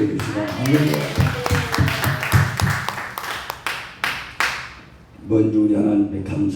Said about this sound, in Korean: 다시 한번 하나님의 영광 박수 올려주시고 할렐루야.